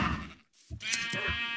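Sheep bleating in the Minecraft video game: a couple of short, nasal bleats close by, separated by a brief silent gap, with no talking.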